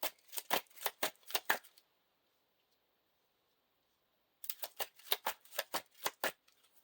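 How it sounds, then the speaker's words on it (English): Two quick bursts of Lord of the Rings card game cards being shuffled into the encounter deck, crisp and close, with a couple of seconds of silence between them. "Shuffle the looked at cards into the encounter deck."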